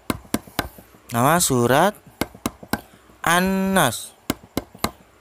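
Children in a second-grade primary school religious lesson clap a rhythmic chant, sharp bursts of hand claps in a steady beat alternating with loud group singing.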